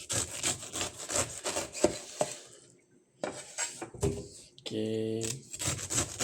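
A knife saws repeatedly through the rough sides of a slightly unripe pineapple, with rasping strokes, a brief pause and a closer scraping burst, while a voice speaks briefly.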